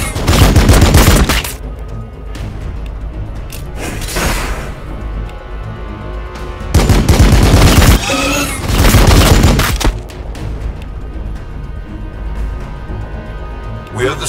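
Gunfire bursts from Warhammer 40,000: Battlesector on PC, loud rattling volleys in several clusters across the stretch, with booming low rumble and game voice lines layered between the shots.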